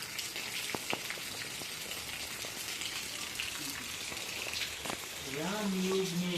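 Rain falling steadily on a millet farm field, a dense hiss of drops on leaves and ground with a few sharper drips, close and continuous, with a faint voice near the end.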